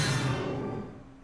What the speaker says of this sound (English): Then I have the energy charge, what I call the energy charge, sounds like this.